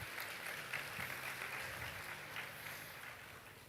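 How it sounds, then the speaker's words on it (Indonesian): A Catholic revival congregation applauds together, a dense steady burst of clapping from a large crowd in a church setting that holds for several seconds before easing slightly. "tepuk tangan"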